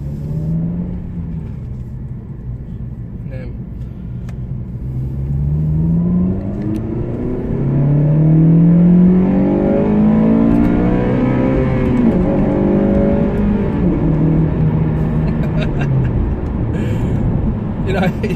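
A Honda Civic FN2 Type R engine revs up, its note climbing steadily with the rising pitch of acceleration, loud and close, with a voice speaking over the sustained engine drone.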